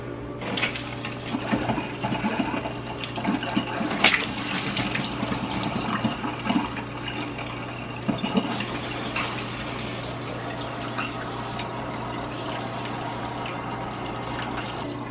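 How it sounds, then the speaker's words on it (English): A household faucet runs steadily after an iron filter is replaced, a continuous gushing flow with a few faint clinks and knocks in the plumbing and no talking. "make sure that the faucet works"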